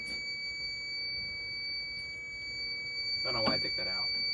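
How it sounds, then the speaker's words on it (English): Steady high-pitched electronic beeping tone from a fire alarm panel during a system test, with faint talking and a short burst of noise near the end. "So you can hear the panel's beeping"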